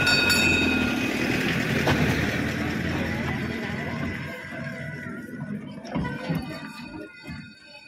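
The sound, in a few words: train passing on rails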